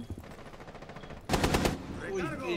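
Gunfire in a ranked Rainbow Six Siege match: faint scattered shots, then a loud, dense burst of rapid automatic fire lasting about half a second, followed by a fainter, busy mix of game sounds.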